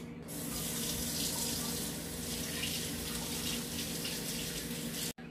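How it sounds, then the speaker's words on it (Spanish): Green tomatoes washed under a running kitchen tap, a steady close hiss and splash of flowing water that continues almost unbroken before cutting off at the end. "Vamos a lavar nuestros tomates verdes."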